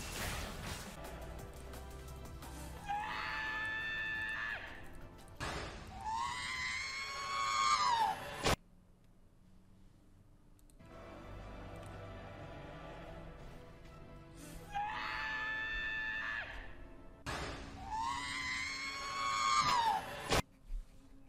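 A man imitates the scream of the R2-D2 robot with his voice, giving high warbling electronic-style shrieks in two pairs of bursts separated by quiet gaps.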